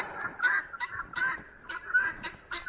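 Guinea fowl call in a rapid, repeated series of harsh, rhythmic squawks, close by and fairly loud, with no voices.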